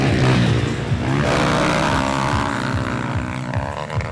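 Motocross bikes in the 230 class roar around a dirt arena cross track with big jumps at a racing event on Marajó, their engines droning and revving loudly and continuously, close by, with no talking.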